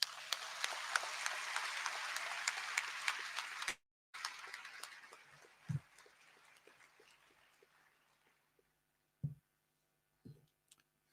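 Loud, dense applause from an audience at an induction ceremony for newly qualified doctors and dentists in Ghana, then a brief cut, after which the clapping thins into scattered, fading claps with a few isolated knocks.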